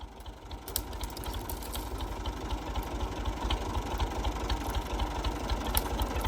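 A tractor engine idling nearby, a steady low throbbing chug with a constant mid-range drone, continuous and moderately loud with no talk.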